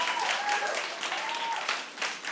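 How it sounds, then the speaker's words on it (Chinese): Applause rings out from a church congregation during a sermon, a steady patter of clapping lasting a couple of seconds at moderate volume. "演讲稿这边说此时要拍手，对吧？"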